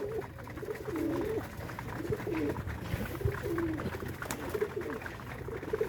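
Pigeons settled on a rooftop loft coo in repeated rolling phrases, close and fairly loud over a steady background hum, with no voices.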